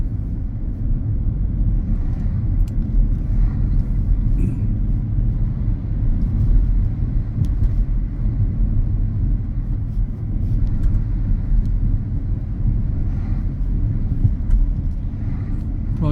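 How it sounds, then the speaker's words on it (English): A car engine rumbles steadily and close during a driving lesson as the car slows and passes straight through a mini roundabout, with constant road noise throughout. "I slow down, look at my right side, it's clear, I don't need to stop, so I just carry on driving."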